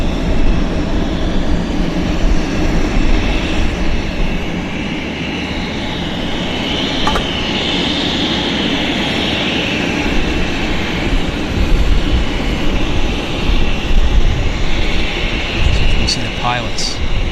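A heavy business jet at Vancouver Airport roars in a broad, steady rumble that swells slightly and holds loud throughout, with faint radio chatter chirps near the end.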